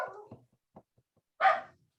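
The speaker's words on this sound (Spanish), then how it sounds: "que se lleven el perro" A dog gives a single short bark near the end, after a few faint, scattered sounds, in an otherwise quiet room during a classroom presentation.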